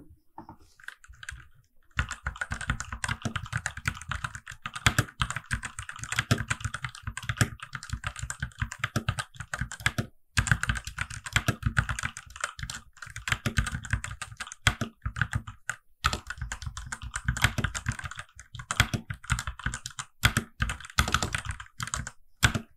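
Rapid typing on a Fantech Maxfit61 mechanical keyboard, a dense stream of close, crisp key clacks with brief pauses, loud and steady throughout, with no voices.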